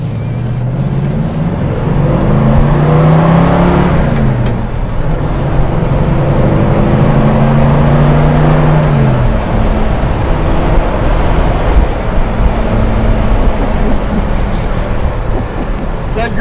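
Steady car engine and road noise from inside a moving car on a test drive, a continuous droning hum with shifting engine tones, loud and close throughout, with no talking.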